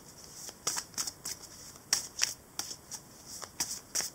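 Oracle cards shuffled by hand for a tarot reading, a steady run of crisp riffling bursts at close range with no voice.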